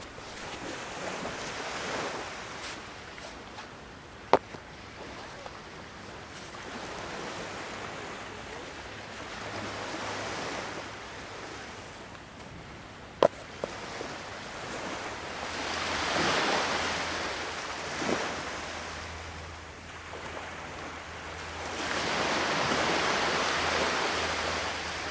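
Sea waves wash onto the beach at New Brighton in repeated slow surges that swell and fade, with wind buffeting the microphone and a few sharp knocks.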